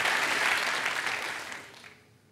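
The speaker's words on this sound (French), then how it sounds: "Je l'applaudis. Bravo." Studio audience applause on a French TV game show, a loud burst of dense clapping that fades away over about two seconds.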